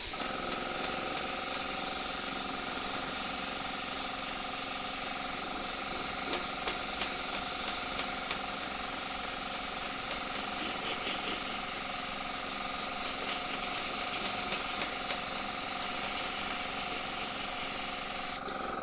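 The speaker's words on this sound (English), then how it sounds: "The good thing about airbrushing is it doesn't over thicken the paint anyway" An airbrush hisses in a steady, close, continuous stream while spraying paint onto a custom helmet, with a faint compressor hum underneath and no talking.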